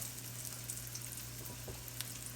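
Floured mackerel sizzles steadily in hot oil in a skillet, a close, dense crackling fry that holds level throughout with occasional small pops and no voices.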